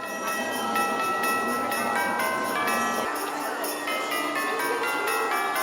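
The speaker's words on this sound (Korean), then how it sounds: "매년 성탄절이 가까워지면 거리에는 반가운 사랑의 종소리가 울려 퍼진다." Salvation Army charity kettle bell on a busy city street at Christmas rings repeatedly in a steady jingle, mixed with a dense crowd and traffic hubbub.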